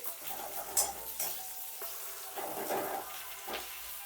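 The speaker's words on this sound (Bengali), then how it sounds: "পেঁয়াজটাকে দিয়েও ভালো করে ভেজে নেব লাল লাল করে" Steady sizzling of onions frying in oil in a pan until reddish-brown and soft, with occasional scraping and stirring sounds, close and continuous.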